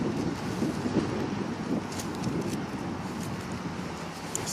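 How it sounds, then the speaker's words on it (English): Outdoor wind buffets the microphone in a steady low rumble, a constant blustery roar with no speech over it. "It's windy out here."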